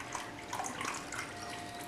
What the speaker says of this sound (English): it required me to add 3 cups of hot water in this jelly mix